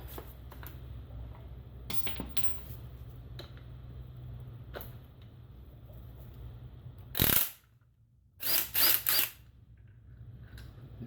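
Sharp mechanical clicks from a ratchet loosening a nut on an Audi A4 B8 rear shock, faint ticking early, then a loud snap and a quick cluster of close clicks near the end.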